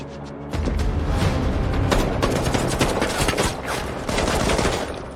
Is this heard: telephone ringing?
no